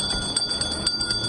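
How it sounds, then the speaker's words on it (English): A Salvation Army bell ringer shakes a hand bell during the Christmas season, a rapid series of bright metallic rings repeating in quick bursts, close and clear. "you can hear Salvation Army bell ringers all over town"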